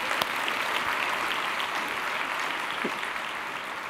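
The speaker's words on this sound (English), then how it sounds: "clap for the families." Audience clapping at a science conference talk, steady dense applause across the whole stretch, fairly distant and even in level, with no voices over it.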